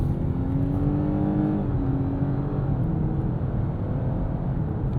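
A 2024 Lexus LS 500h hybrid sedan corners in comfort mode, heard from inside the cabin as a steady, loud engine drone and road roar, with the engine tone dipping slightly partway through; no speech.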